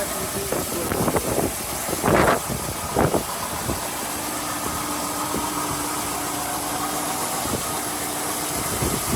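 A 1965 Chevrolet Impala V8 with stock dual exhaust and mechanical fuel pump idles close by with a low, steady rumble, a few clunks and knocks sounding over it early on.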